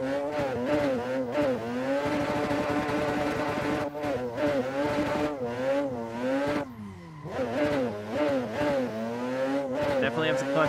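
A high-revving car engine in the racing sim Assetto Corsa screams continuously near redline, pitch rising and dropping through gear changes, loud and close throughout with a brief dip near the middle.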